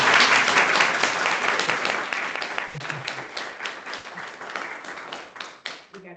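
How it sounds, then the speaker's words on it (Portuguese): An audience applauds a professor at the close of a evening lecture on moral laws, dense clapping filling the room and gradually thinning out over about six seconds, with no talk over it. "palmas para o professor."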